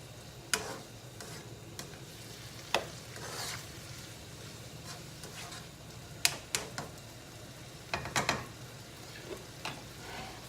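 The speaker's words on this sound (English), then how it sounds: "Stir it." Kapampangan biringhi being stirred in a pan, with intermittent utensil scrapes and taps over a steady low sizzle, a few sharper clacks spaced through the stretch, no talking.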